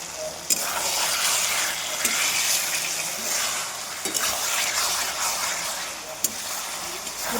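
Egg curry sizzling in plenty of oil in a pan while being stirred, a steady close frying hiss broken by a few sharp scrapes of the spoon against the pan.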